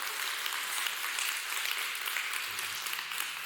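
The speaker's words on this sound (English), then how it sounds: "Yeah, you can clap." A church congregation claps together during a worship service, a dense, steady wash of hands throughout with no standout voices.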